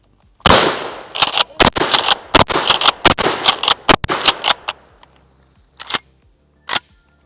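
A Mossberg Maverick 88 pump-action shotgun fires at a paint can outdoors. A rapid series of sharp, loud bangs and cracks comes close together, then two more isolated reports after a short gap.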